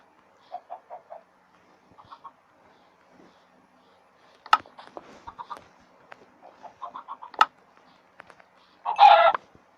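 Scattered Minecraft chicken clucks and short fowl calls in quick bursts, ending in a louder squawk; sparse and fairly close, with quiet gaps between.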